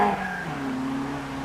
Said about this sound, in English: Sweet sounding motor car.